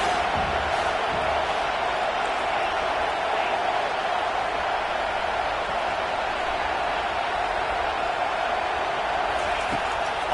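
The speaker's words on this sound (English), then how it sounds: "this crowd trying to help keep them there" A college football stadium crowd keeps up a steady, broad roar of cheering and noise from the stands throughout, with no breaks.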